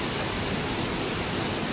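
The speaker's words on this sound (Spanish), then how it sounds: "el ver cómo se levanta el agua a cierta altura y el remolino que hace en este punto es impresionante" Río Nututun at Palenque churning and swirling in a whirlpool, a constant broad rushing roar of river water, moderately loud and uninterrupted, with no talking.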